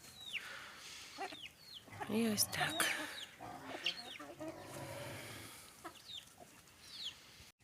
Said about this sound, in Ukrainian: вже такі кури, курчата файні